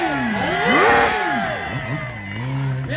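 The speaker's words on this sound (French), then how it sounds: "applaudissez-le, messieurs, dames, on l'encourage très très fort" A crowd cheers and shouts at a motorcycle presentation, with a loud, swelling burst of voices that peaks early and then eases into a steadier murmur.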